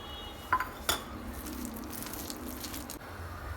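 Pepper powder being stirred into urad dal batter in a bowl, with a couple of sharp utensil clinks early on, then soft, wet mixing sounds.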